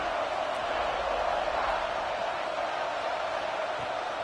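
Crowd noise fills a College Football 26 stadium, a continuous, distant roar that holds steady throughout without distinct voices.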